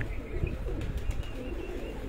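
Pigeons at a pigeon show at a home in Sargodha, with faint soft cooing and brief bird chirps over a steady low background rumble, with no voices.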